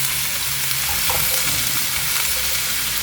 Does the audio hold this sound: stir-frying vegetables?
yes